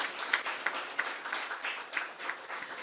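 Loud crowd applause at a Marathi literary award ceremony, a dense wash of many hands clapping steadily for about three seconds with no pauses.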